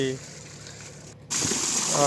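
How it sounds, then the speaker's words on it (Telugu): Water sprays onto a tractor being washed, a steady rushing hiss that cuts out briefly and then resumes stronger, with someone talking over it. "ఇట్లా నార్మల్గా వాటర్ పడుతున్నా"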